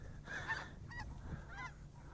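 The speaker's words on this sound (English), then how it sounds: "we have the snow geese going over" Snow geese honk while flying overhead outdoors, several distant, faint calls in a loose irregular series over a low background rumble.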